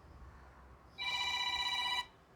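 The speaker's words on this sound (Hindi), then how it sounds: "तो अभी एक फ़ोन आ रहा है," A telephone rings for about one second, a loud, bright electronic trill that starts and stops abruptly against a quiet indoor background with no talking.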